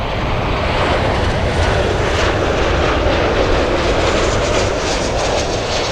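A jet airliner roars continuously and loudly at Miami International Airport, heard as broad, steady engine noise with no talk.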